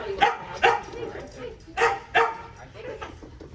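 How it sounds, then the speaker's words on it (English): A small dog barks at a dog training class, giving several sharp yips in irregular pairs close to the mic, with whimpering between them and faint talk under it. "if you pick him up while he's barking like this, you're going to be avoiding him from barking"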